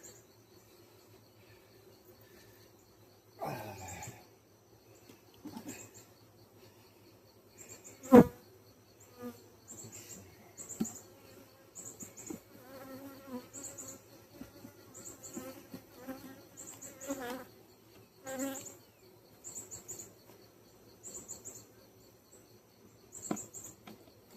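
Honeybees buzz inside a beekeeping suit close to the ear, a thin, wavering whine that comes and goes in bursts over a quiet background, with scattered rustling and bumps from the suit.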